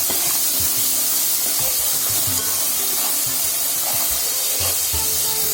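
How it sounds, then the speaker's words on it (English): Ginger garlic paste stir-frying in a pan for veg pulao, a loud continuous sizzle and hiss with soft scraping stirs, close and steady throughout. "We have to stir fry the ginger garlic paste until the raw smell of ginger garlic paste vanishes."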